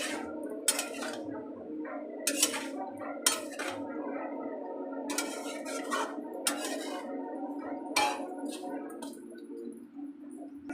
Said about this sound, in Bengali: এবারে ভালো করে একটু নাড়িয়ে চাড়িয়ে মিশিয়ে নেব